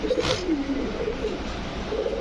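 Pigeons in a large cage coo in low, rolling murmurs that repeat steadily close by, with a soft constant background hiss and no voices.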